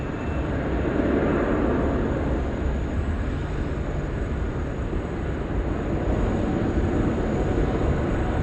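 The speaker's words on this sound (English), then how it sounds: "330 300 in from Bangkok now, 16 right" An Airbus A330-300 in from Bangkok lands on runway 16 right at Sydney Airport, a steady, broad engine roar holding at even loudness throughout with no voices.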